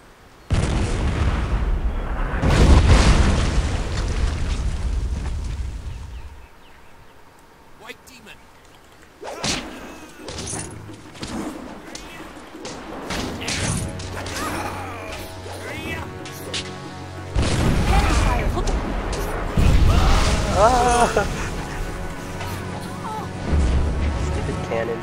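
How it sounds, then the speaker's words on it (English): Booming cannon blasts from the video game Jade Empire come in several separate heavy bursts spread across the clip, mixed with crackling impacts and other game sounds. "Stupid cannon."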